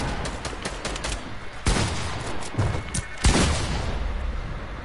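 A video game firefight delivers several close gunshots, with a patter of rapid lighter shots followed by two louder sharp reports that ring out over a steady background hiss.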